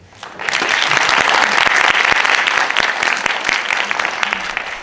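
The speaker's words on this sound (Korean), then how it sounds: "이때 박수 쳐야 돼요." Steady audience applause at a youth policy forum with a Democratic Party gubernatorial candidate for Gangwon, many hands clapping loudly and continuously after a brief quiet start.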